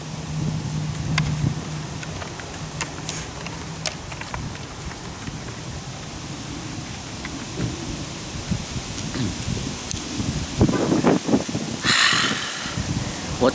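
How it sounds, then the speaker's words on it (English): Wind blows steadily outdoors where skateboarding takes place, a low rumbling buffet with gusts that swell and ease across the whole stretch, growing stronger near the end. "It's windy today."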